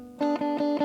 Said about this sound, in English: when I play louder, you get more distortion